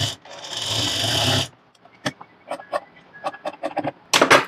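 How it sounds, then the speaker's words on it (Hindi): A sewing machine stitches a blouse shoulder seam in a loud whirring run of over a second, then stops, followed by quieter handling clicks, fabric rustles and a final short burst of machine running. "तो चलिए मशीन पर मैं आपके लिए सिलाई लगाकर समझा देती हूँ"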